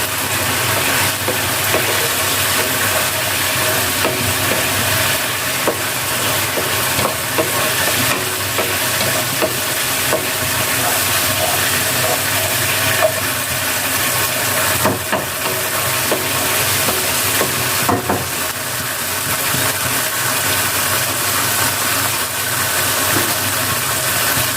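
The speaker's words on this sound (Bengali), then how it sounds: "আমার আলুটা কষানোর সময় এসে গিয়েছে। আমি খুব সুন্দর করে কষিয়ে নিচ্ছি।" Potatoes sautéed and stirred in a pan for an egg and potato curry, with a steady, loud sizzle of oil running throughout and occasional scraping strokes of the spatula, no voices.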